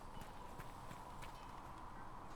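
Horse hooves clip-clop in Dragon Age Inquisition, in the Hinterlands, a steady faint trot of rhythmic hoofbeats under a constant wash of ambient noise.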